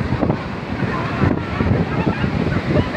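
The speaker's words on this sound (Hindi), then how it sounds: "इतनी तेज़ हवा चल रही है" Strong wind buffets the microphone at Manora beach, a steady loud rumbling roar with gusty surges, mixed with surf and the murmur of a crowd.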